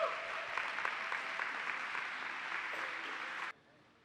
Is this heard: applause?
yes